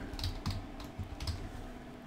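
A computer keyboard is typed on in a short run of distinct keystrokes, close and fairly quiet, with no voices.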